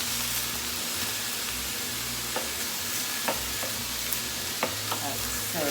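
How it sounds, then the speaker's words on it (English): Vegetables browning in a pan alongside already cooked pork, a continuous close sizzle with occasional faint stirring clicks and pops. "Now I'm just gonna add all my vegetables. Get them brown."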